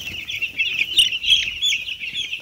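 Broiler chicks, five days old, on a poultry farm keep up a continuous chorus of shrill cheeping and clucking, loud and close, with no talking.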